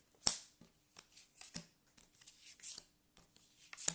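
A deck of playing cards is cut by hand: a few soft, sharp snaps and light papery rustles, quiet and close, with no talking.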